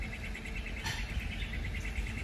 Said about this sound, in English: I'm just listening to these birds